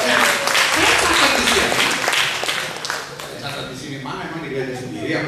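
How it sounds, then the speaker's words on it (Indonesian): Church congregation applauding during a sermon, a dense, loud wash of clapping that swells early and then thins and tapers off over a few seconds. "Sejujurnya dengan tepuk tangan."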